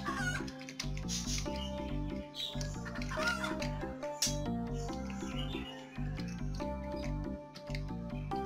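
A chicken clucks repeatedly in the platform game 345ters, short bright calls scattered over loud, steady game music with no talk.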